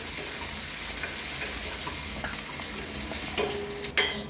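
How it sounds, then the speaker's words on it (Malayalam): Shallots frying in a pan hiss steadily while a utensil stirs them, and two sharp metallic scrapes or clanks stand out near the end. No one speaks over the close, constant sizzle. "ഇത് നന്നായിട്ട് ഇളക്കി കൊടുക്കണം അല്ലെങ്കിൽ കരിഞ്ഞു പോകും"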